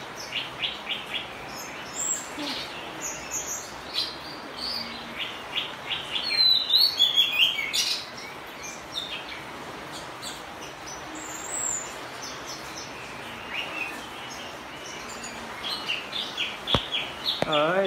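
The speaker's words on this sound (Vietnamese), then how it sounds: "Trời đang mưa này, con chim nó buồn, nó hót này." An oriental magpie-robin sings in the rain with repeated bright chirps and whistled phrases over a steady rain hiss, sometimes clustering into busy runs, near and fairly clear, with faint voices in the background.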